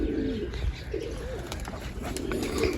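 Pigeons coo softly in repeated low, throaty phrases, nearby but moderate in volume, with light background rustling and no speech.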